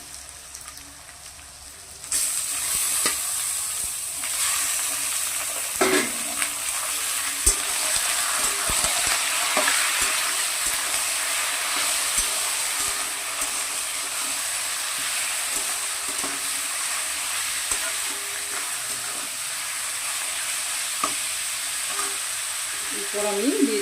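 Mutton pieces go into a pan of browned fried onions, and the quiet background jumps into a loud, sustained sizzle with occasional stirring knocks that lasts to the end.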